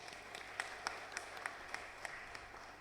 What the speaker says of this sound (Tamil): கைத்தட்டு எல்லாரும்.